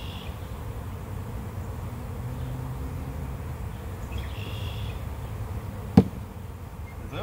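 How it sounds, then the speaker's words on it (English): A large honeybee swarm buzzing outdoors, a faint, steady drone that continues throughout, broken by a single sharp knock near the end. "They'll start attracting other bees."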